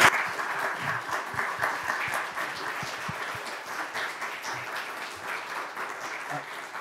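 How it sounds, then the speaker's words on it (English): Audience applause at a conference session honoring a judge: steady, dense clapping from a large room that continues evenly for several seconds and fades slightly toward the end. "Let's give him another round of applause."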